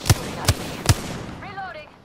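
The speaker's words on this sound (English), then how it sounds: "Shots fired and they're hitting me." Three sharp gunshots ring out at an even pace in the Apex Legends video game, loud and close, followed by a brief trailing voice-like tone as the shots fade.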